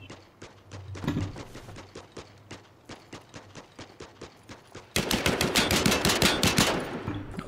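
Rapid gunfire in the Last Man Standing shooter game, a steady run of sharp shots that bursts into a louder, denser volley of automatic fire halfway through, with no talk over it.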